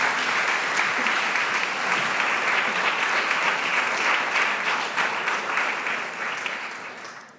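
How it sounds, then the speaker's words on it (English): Sustained, loud applause from a lecture audience greeting a speaker, dense steady clapping filling the room throughout before tapering off at the end. "A warm applause."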